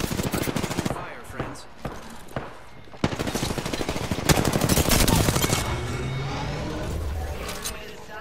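Rapid bursts of automatic gunfire crackle through a video game shootout, a few separate shots at first and then a dense, loud volley that keeps going, with a voice talking over the shooting.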